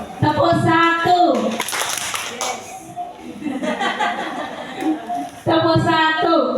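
Children and a teacher join a classroom clap game at an elementary school gathering: a loud burst of group clapping rings out between stretches of lively voices and chatter, with talking throughout.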